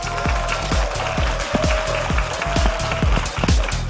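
Crowd applause at a Korean esports match as the MVP players are introduced, dense steady clapping with sharp individual hand claps punching through, continuous and fairly loud.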